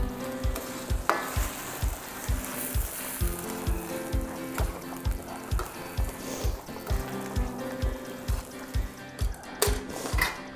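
Browned butter going into a simmering spicy meat sauce for pasta, a continuous bubbling sizzle with a steady rhythmic thump repeating about twice a second underneath, close and even throughout, with no talking.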